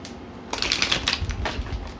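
Tarot cards are shuffled in quick, crisp riffling bursts close by, with soft papery clicks and flutters and no voice.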